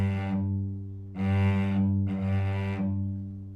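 A cello is bowed with only the fingers in three sustained strokes separated by short gaps, giving a thin, washy, airy tone over a steady low string resonance.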